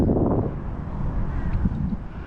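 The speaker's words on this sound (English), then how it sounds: "It's a little windy right now." Wind gusts buffet the microphone on the water while kayak fishing in Venice, Florida, a loud low rumbling roar that swells and eases over a couple of seconds with no clear talk.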